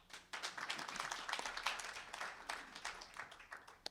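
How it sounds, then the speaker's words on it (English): Scattered, lively applause from an audience for the authors at a Latino book and family festival press conference, with crisp individual claps heard fairly close, rising and thinning over a few seconds. "let's have a random applause for all the authors"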